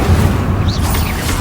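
An Incendio fire spell erupts in Hogwarts Legacy, a brief, loud, rumbling blast with a heavy low boom and a rising whooshing flare partway through.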